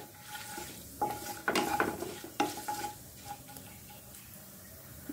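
Red chili and asafoetida tempering in hot oil in a pan with cumin and bay leaf, soft sizzling under scattered metallic stirring clinks of a spoon against the pan, close and moderately quiet.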